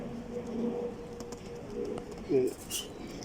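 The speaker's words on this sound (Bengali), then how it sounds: "ওরা অনেক ছটফটা খাঁচার ভিতরে উড়াল দেওয়ার জন্য প্রস্তুত করে" Racing pigeons shut in a cage coo softly in a few low bursts, with a brief rustle of fluttering wings and faint background noise around them.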